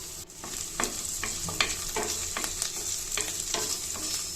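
Cinnamon and cloves frying in a pan, soft steady crackle with regular scraping stir strokes, fairly quiet and close, no voices.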